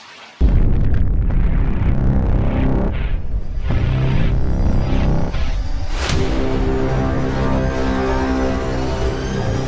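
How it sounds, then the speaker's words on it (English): A nuclear explosion sound effect set in the Middle East: a sudden loud blast opens into a sustained, heavy rumbling roar that carries on at full strength, with a sharper burst partway through and no talk. "in 2024 BCE, there was a nuclear explosion in the Middle East region"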